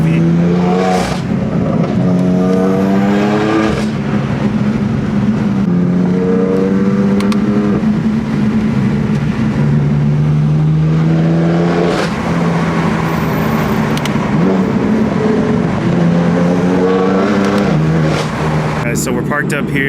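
BMW engines rev up and down repeatedly, rising and falling exhaust tones that stay loud and close throughout, with a voice talking over them.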